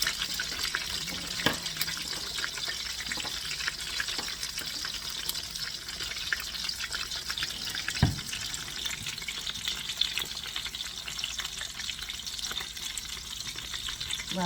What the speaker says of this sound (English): I'm going to continue frying these